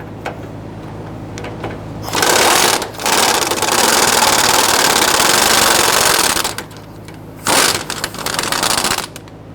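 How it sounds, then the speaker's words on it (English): Pneumatic air tool working a bolt loose on a 2005-2021 Nissan Frontier 4.0L V6 during fuel tank sending unit replacement, a loud close rattling buzz in two long bursts with a shorter burst after, no talking. "air tools to speed things up a little bit"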